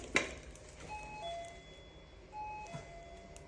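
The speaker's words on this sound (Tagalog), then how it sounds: "So mag-doorbell lang ta" A doorbell chime at a residence in Japan sounds twice as a clear two-tone ding-dong, with steady quiet background hum and no talking.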